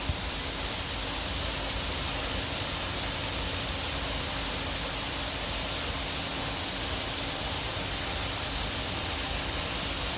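Steady rushing waterfall in the tiger enclosure at Khao Kheow Open Zoo, Chonburi, a continuous broadband wash of falling water that holds even and unbroken throughout, with no clear voices over it.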